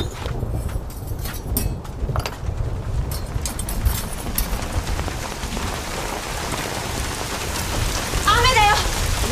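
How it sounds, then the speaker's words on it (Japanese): Steady rain pouring down outdoors, a dense, continuous wash of drops close by, with a few sharp knocks and a brief higher-pitched sound late in the clip. "雨だよ。"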